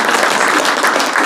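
Members at an annual general assembly of a ROTC social-service association clap together in approval, a loud, dense, continuous burst of applause.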